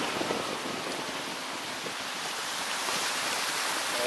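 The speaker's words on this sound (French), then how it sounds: "Tout le ruisseau qui est en mouvement." A flowing stream in the Semois valley rushes steadily as a broad, continuous wash of water noise, fairly close and unbroken for the whole stretch, with no voices.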